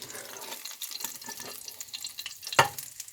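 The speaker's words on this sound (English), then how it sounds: "I'm going to flip it using a spatula." Chicken egg foo young fries quietly in a pan, with a soft uneven sizzle and stirring noises, then a sharp clatter near the end as a spatula flips it over.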